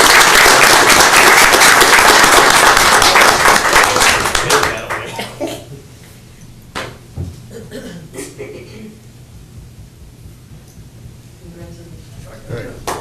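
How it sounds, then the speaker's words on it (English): Round of applause from an audience at a board meeting, loud and full for about four seconds, then dying away into scattered claps, light chuckles and murmured talk. "if we give them one last round of applause"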